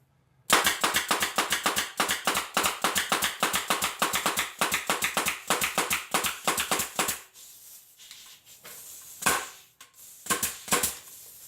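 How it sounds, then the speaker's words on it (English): A homemade portable ABS air tank fires a rapid string of sharp, loud pops in a steady rhythm for several seconds, then a few scattered shots follow after a brief lull. "But if I just go ahead and shoot this thing"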